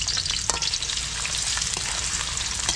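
Garlic and onion fry loudly in a pan at an outdoor camping cookout, a dense, continuous sizzle with a few sharp crackles and spatters, heard close up with no talking.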